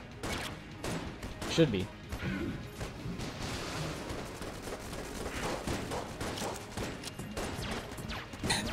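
Gunfire from weapons in the video game Enter the Gungeon, dense rapid shots and impacts throughout during a boss fight, with someone talking over the shooting.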